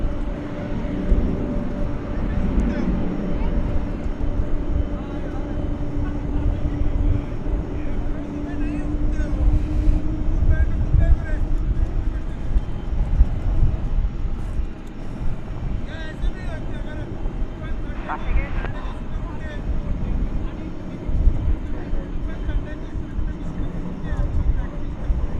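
Airliner at Dallas Fort Worth Airport, a steady rumbling jet engine drone heard from a distance through wind noise on the microphone, with people chatting throughout.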